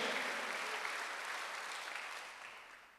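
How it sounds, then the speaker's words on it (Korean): A church congregation applauding during a Sunday worship service, a dense, steady wash of many hands clapping that gradually fades toward the end, with no talk over it. "박수 좀 세게 쳐요."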